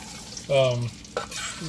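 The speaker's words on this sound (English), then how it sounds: "We're going to cook these down in that bacon grease." Yellow onions sizzle in bacon grease in a hot pan with a short burst of stirring and scraping, close by, the frying hiss rising and settling.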